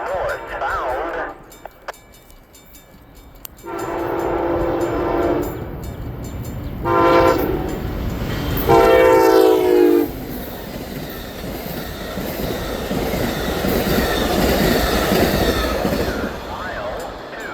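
A northbound CN freight train on the Champaign Sub blows several long horn blasts, then rumbles past nearby with wheel noise and clatter building to a steady roar; a brief voice is heard early on.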